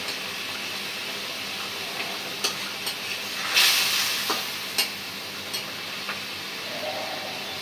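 Rohu fish curry gravy for a dopeyaza simmers in a pan, a steady bubbling hiss with a brief louder sizzle burst and a few light clicks of a utensil against the pan, close by with no talk.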